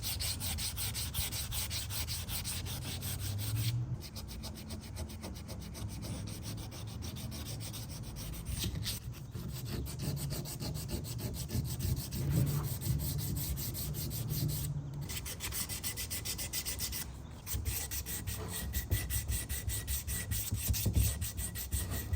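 Hand sanding on a Spoon brake caliper being prepared for paint produces continuous rhythmic rasping strokes, close and fairly quiet, with a few brief pauses between passes and no talking.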